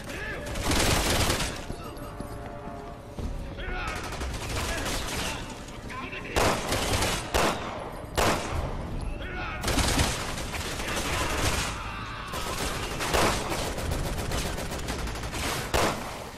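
Gunfire in the Resident Evil 6 video game, repeated loud bursts and single shots in an irregular rhythm through the whole stretch, mixed with game sounds and some talk.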